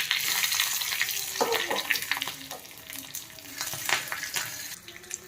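A green chilli fries in hot oil with mustard seeds and curry leaves for a chutney tempering, a close, continuous sizzle broken by scraping stirs and irregular spattering pops.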